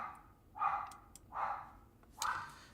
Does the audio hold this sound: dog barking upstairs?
yes